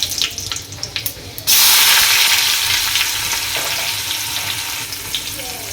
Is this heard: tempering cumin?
yes